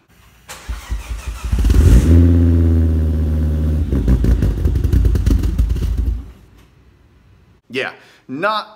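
A 2005 Volvo V70R engine cranks and catches, then runs loudly with a rough, clattering idle for several seconds before shutting off, followed by a short burst of talking.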